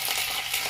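Garlic and ginger fry steadily in hot oil in a pan with curry leaves, giving a continuous close bright sizzle with faint stirring scrapes, no voices.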